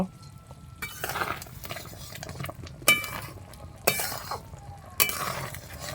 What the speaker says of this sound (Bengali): এবার এই মশলাটা আমি দিয়ে দেবো দিয়ে এবার একটু নেড়ে চেড়ে নেব